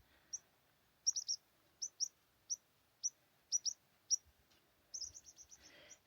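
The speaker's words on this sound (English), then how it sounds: "is what looks like a juvenile white-crowned sparrow." A juvenile white-crowned sparrow calls from a rock at a mountain lake campsite, giving a series of short, thin high chirps, singly and in quick pairs, fairly close, ending in a faster cluster of notes.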